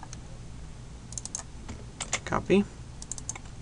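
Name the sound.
computer keyboard typing while copying and pasting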